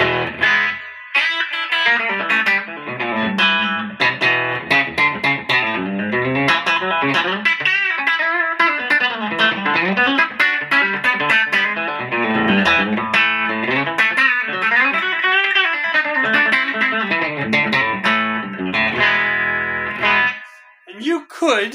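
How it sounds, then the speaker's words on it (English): Electric guitar played through a Joyo Bantamp Jackman II amp with reverb from a Quilter amp, giving distorted, reverberant chords and melodic runs that continue throughout, close and loud. "you have reverb on your Joyo."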